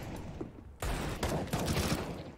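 Gunfire in a shooter video game, a quieter stretch suddenly breaking into loud, sustained rapid fire and bursts that continue to the end.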